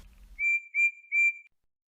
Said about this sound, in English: Then Percy let off a loud whistle.